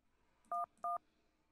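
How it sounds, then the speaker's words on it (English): Two short DTMF keypad tones from a phone being dialed to 911 in the puzzle video game Agent A, a clear double beep standing alone over a quiet background. "you actually typed in like a number"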